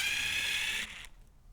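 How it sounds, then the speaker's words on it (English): A steady, high-pitched power-drill whir runs for just under a second while opening a heat press crate, then cuts out, leaving a quieter mechanical rattle and faint clicks. "I am using a drill, of course, just to make things a little faster."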